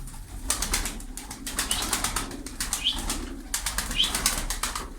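Bursts of rapid wing flapping as tumbler pigeons take off and flutter nearby, repeating in several loud clusters with brief pauses between.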